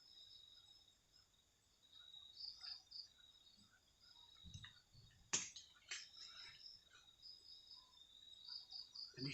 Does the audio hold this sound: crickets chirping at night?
yes